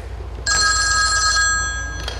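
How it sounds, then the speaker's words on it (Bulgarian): A telephone bell rings once, loud and close, a steady electric trill lasting about a second, with a brief second ring starting just before the end. "Телефонът ще звъни."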